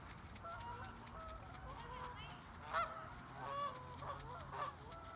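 Several geese honk repeatedly at moderate distance, harsh calls bursting out over a steady outdoor background, with a few louder honks standing out near the end.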